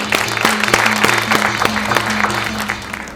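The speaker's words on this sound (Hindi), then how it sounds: "एक बार जोरदार तालियां हो जाए हमारे कंटेस्टेंट की।" A studio audience at a TV game show applauds the contestants with steady clapping over a musical sting.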